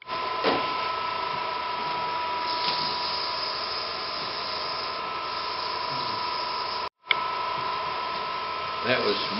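A steady mechanical hum of a lathe's vacuum chuck pump with a constant tone while wood turning, cutting out briefly before resuming, with faint handling noises.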